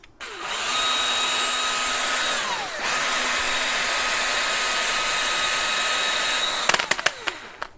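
A drill with an acorn nut threaded on a bolt spins against triple-aught steel wool, giving a loud, steady, close whine for about six seconds with a brief dip in pitch partway through, then stopping with a few sharp clicks.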